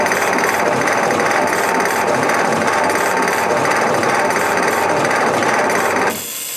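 An ambulance engine cranking with its spark plugs removed makes a loud, steady, dense mechanical churn that runs unbroken for about six seconds and then drops off abruptly, close up, with no voices.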